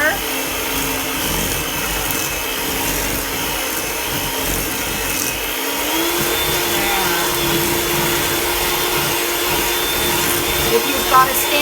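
An electric hand mixer beats butter and sugar for ginger molasses cookies in a home kitchen, a steady loud motor whir running for about eleven seconds with a slight shift in pitch partway through.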